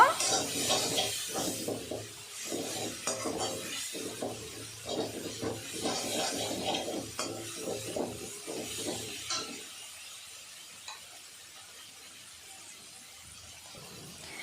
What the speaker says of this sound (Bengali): ধনে গুঁড়ো সব কিছু এখন ভালো করে নাড়াচাড়া করে নেব